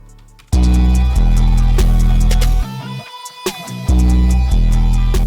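A loud, heavy, grungy opium-style electronic beat cuts out briefly to a sparse drum fill at the start of the drop, then slams back in at full force.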